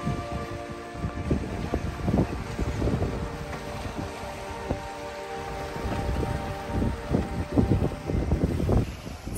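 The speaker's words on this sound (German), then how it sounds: "weil es draußen so windig ist" Strong wind buffets the outdoors around a parked Citroën Berlingo XL camper van, a steady rushing roar with gusty swells and patters, as if rain or debris were striking the van's surface, with no voices.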